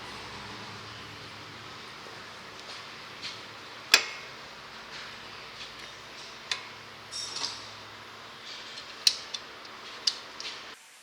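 Channel locks squeeze a brake pad against the caliper piston on a 2015 Subaru XV Crosstrek's front brake, producing scattered close clicks, ticks and metallic creaks at irregular intervals over a quiet background.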